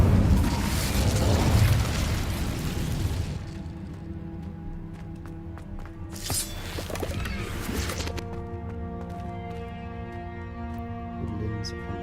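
A fire spell cast in the Hogwarts Legacy video game: a loud, dense burst of roaring flame for the first few seconds. It then gives way to sustained tonal game music with brief magical whooshes and sparkles.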